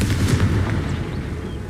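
A Confringo blasting spell goes off in Hogwarts Legacy: one sharp, booming burst like a gunshot or artillery blast, with a rumbling tail that fades out over about a second and a half.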